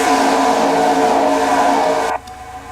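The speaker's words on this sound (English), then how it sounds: "you can tell by the engine noise that it's not restrictor plates" Video game race car engines roar at high speed without restrictor plates, a loud sustained whine that holds steady and then cuts off abruptly near the end.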